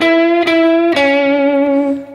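Electric guitar playing a short Chicago blues lick that mixes major and minor pentatonic notes, with two picked, bent notes ringing out and sustaining, loud and close.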